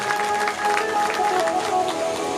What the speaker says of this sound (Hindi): तो मैं आपके लिए भी बहुत ढेर सारी तालियां आप बजा सकते हैं